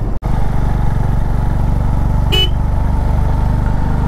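A Honda CB350 motorcycle rides a mountain road at high altitude near Kaza, its engine droning steadily and loudly throughout while a single short horn toot sounds about halfway through.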